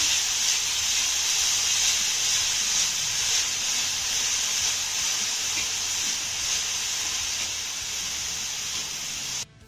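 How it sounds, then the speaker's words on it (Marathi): Bitter gourd being sautéed in a pan over a low flame, giving a steady, even hiss of frying that continues unbroken for the whole stretch before cutting off abruptly at the end. "लो वरती आपल्याला हे कारलं दोन ते तीन मिनटं चांगलं परतून घ्यायचं आहे"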